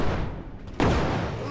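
A cannon fires in the video game LEGO Brick Rigs, one loud booming shot that bursts out partway through, against a dense, noisy game background.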